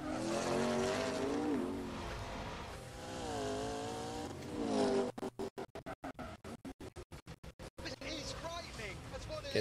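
Race car revving and drifting in The Grand Tour Game racing video game, a loud engine whine with rising and falling revs, then choppy stuttering bursts, under talk.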